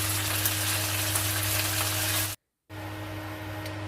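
Mackerel fries in a pan with a dense, even sizzle like steady rain and a low hum beneath, broken by a brief silent gap before the hiss resumes.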